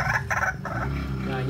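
A decoy waterhen calls in loud, close, repeated harsh clucking bursts, a bird kept in a cage.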